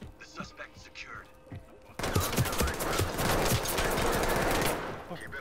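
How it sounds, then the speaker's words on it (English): Gunfire in the Ready or Not tactical shooter game: quiet thuds and faint voices at first, then a sudden loud sustained burst of rapid automatic shots with echoing rattle for several seconds. "Where is he shooting from?"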